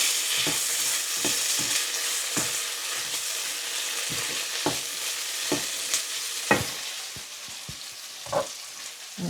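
Curry paste fries in a pan with a continuous loud sizzle, punctuated by repeated scraping knocks of a utensil stirring against the pan at an irregular pace.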